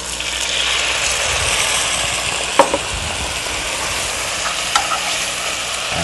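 White wine hits a hot pan of bacon and mushrooms, giving a steady, loud, broadband sizzle throughout with a couple of brief clicks from utensils.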